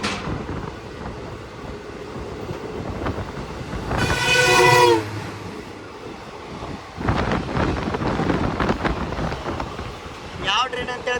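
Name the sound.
passing train at a crossing, heard from a train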